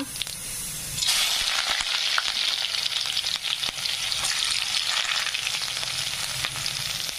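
Chopped onion dropped into hot oil with cumin and mustard seeds for a moong dal tempering; after a quiet first second a loud, dense sizzle bursts up and keeps going steadily.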